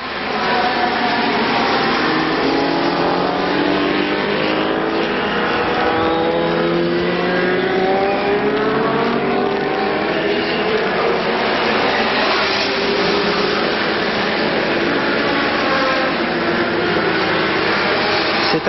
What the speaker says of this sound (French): C'est actuellement la moto 45, la Honda de Wolfgang Gierden Auguin que nous suivons.